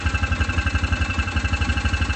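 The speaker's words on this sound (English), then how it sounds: "It still idles a little funny. As you can hear, it seems like it drops down" A Hisun Vector 500 UTV engine idles unevenly up close, chugging in a steady low pulse with a slight wavering rhythm as the revs dip and recover.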